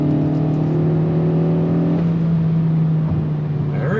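A 2022 Kia Forte GT2 sport sedan accelerates hard in second gear under throttle, its engine droning steadily and loudly from inside the cabin with a constant tone and a small shift in pitch partway through.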